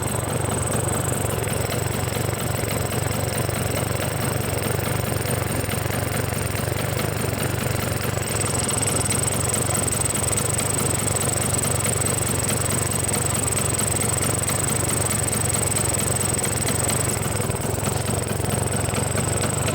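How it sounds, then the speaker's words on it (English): A 1978 Vespa P200E scooter engine idles nearby, a steady, even mechanical putter with a faint high whine over it, continuous throughout with no talk. "be very careful when you're working on a running motor."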